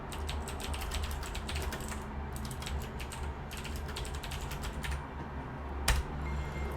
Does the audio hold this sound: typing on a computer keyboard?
yes